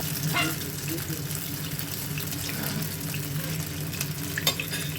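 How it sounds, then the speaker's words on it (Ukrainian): Steady, even sizzling of stuffed Czech-style potato pancakes frying in a pan, with a soft continuous hiss and faint clatter throughout. "І так я на сковорідку накладати буду всі деруни поступово."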